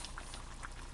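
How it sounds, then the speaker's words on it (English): Green beans and potatoes cooking in a pan, giving off quiet, bubbling splatter with small scattered pops over a steady sizzle, faint and close. "You do get some splattering."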